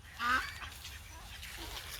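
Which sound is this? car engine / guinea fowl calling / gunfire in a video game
guinea fowl calling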